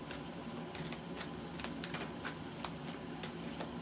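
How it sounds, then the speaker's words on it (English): A deck of tarot cards is shuffled close up, giving a continuous run of rapid riffling and flicking taps with no voices. "I done shuffled 50 times"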